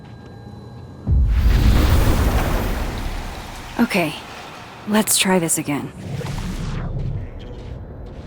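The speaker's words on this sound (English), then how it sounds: "Psychic storm." Psychic storm in Life is Strange: Double Exposure, a loud rushing roar of rain with rumbling thunder that swells in and holds, with a voice speaking over it.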